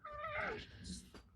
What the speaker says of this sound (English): My cat is visiting.